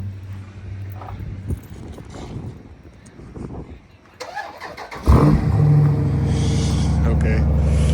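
A car engine cold-starts after four days sitting through a blizzard, with a cranking whir, then a sudden loud catch into a rough, rumbling idle. People talk over the quieter moments before it fires.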